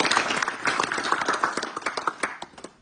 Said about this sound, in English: I think we should give a big round of applause for the Greens.